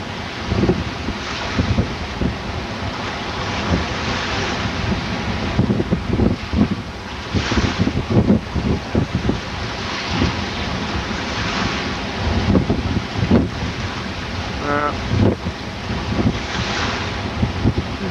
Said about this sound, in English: No, looks like the wind.